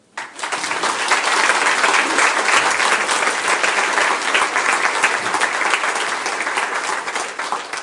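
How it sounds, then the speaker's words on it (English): A crowd at a public housing assembly in Missoula breaks into loud, sustained applause that holds steady for several seconds. "Can we get one more round of applause for our neighbors?"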